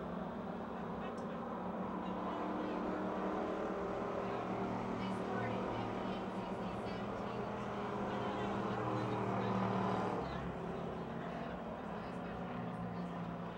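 Race cars circle a motor speedway in Pittsburgh, Pennsylvania, their engines blending into a steady, continuous roar at middle distance that swells slightly around the midpoint, with an announcer's voice talking over the racing.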